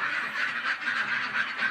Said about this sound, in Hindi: अब हम लोग बत्तख निकाल रहे हैं, बत्तख सबको खाने के लिए दिया जाएगा।